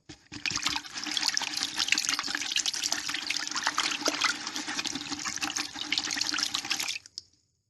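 Water runs steadily from a tap for about seven seconds while something is washed under it, a continuous close splashing hiss that stops abruptly near the end.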